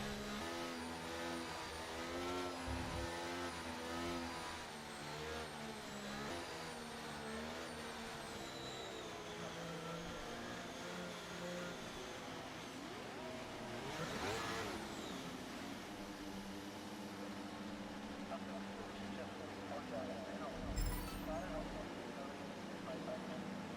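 Race car engines before the start in the racing game Race Spec, a steady low drone of engines revving and shifting pitch, with a louder surge midway, under a faint hiss.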